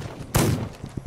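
A single loud, close burst of gunfire sounds in a video game, followed by a few fainter scattered shots.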